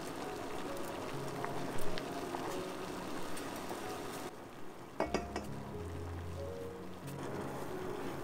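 Water for masala chai bubbles at a rolling boil in a pot over medium heat, a soft continuous fizzing broken by a few clinks and a low bubbling surge toward the end, with no talk.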